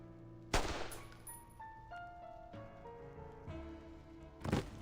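A sharp gunshot goes off in the Reverse 1999 video game, a loud broadband crack over soft music, followed after a few seconds by a second loud burst.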